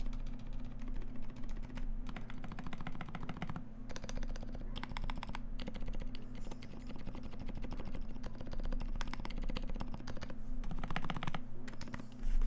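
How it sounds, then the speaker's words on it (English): Rapid, continuous typing on a custom Keycult No.2 stainless steel mechanical keyboard with tuned switches and stabilizers, crisp close key clacks in dense bursts with brief pauses, quiet and alone. "So if you take a listen to my keyboard, there's like zero rattle."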